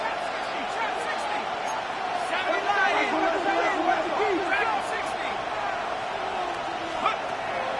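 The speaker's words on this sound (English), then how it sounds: "This Buffalo crowd letting them have it." Large Buffalo football stadium crowd roaring and booing on a third down, a dense continuous wall of massed voices at steady loudness throughout, with a slight swell in the middle.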